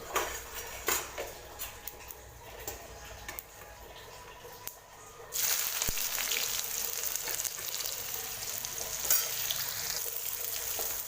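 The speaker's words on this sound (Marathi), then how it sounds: "कढईमध्ये तेल गरम केलं होतं मोहरी तडतड झाली आता यामध्ये कांदा टाकूया" Light clicks and taps, then a sudden loud sizzle as onion hits hot oil with popped mustard seeds in a kadhai, settling into a steady, close frying hiss.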